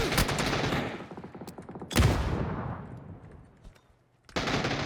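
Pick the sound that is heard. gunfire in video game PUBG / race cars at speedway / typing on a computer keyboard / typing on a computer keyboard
gunfire in video game PUBG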